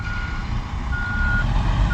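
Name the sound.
concrete mixer truck with reversing beeps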